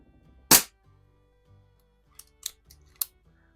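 Shots from a .177 Pinty Buster PCP air pistol: one loud, sharp crack up close, then a few lighter snapping clicks and pops spaced over the following seconds, with no talk.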